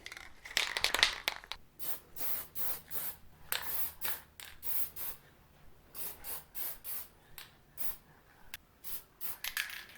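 Short bursts of spray paint from an aerosol can coating 3D-printed knobs for a 1934 Grunow 501 tube radio, a quick series of close hissing spurts separated by brief pauses.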